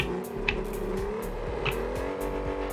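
Engine drone of a car in the Rocket League video game, a steady harmonic hum with rising and falling pitch, broken by a few short bright clicks and bursts from the game.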